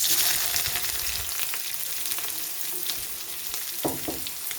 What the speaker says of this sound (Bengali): এবার পেঁয়াজ কাঁচা লঙ্কাটাকে একটু ভেজে নেব।